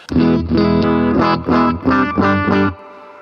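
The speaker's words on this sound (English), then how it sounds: "There's the clean signal, has some reverb." A clean electric guitar through a Roland Cube amp plays a short run of plucked notes with a reverb tail ringing out after the last one.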